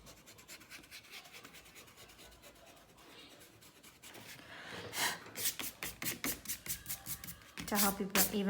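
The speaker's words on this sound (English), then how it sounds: "you can even take an eraser here in the center" An eraser rubs across paper to lift off colored pencil in the center of a drawing, giving short rhythmic scrubbing strokes that grow louder and busier in the second half, close to the mic.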